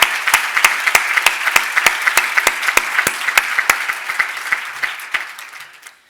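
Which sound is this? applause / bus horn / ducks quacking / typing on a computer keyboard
applause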